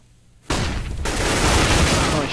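Gunshots in Counter-Strike on the de_mirage map, a sudden loud burst of fire that continues as dense, sustained noise, with a commentator talking over it.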